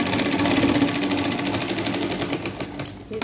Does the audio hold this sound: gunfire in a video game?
no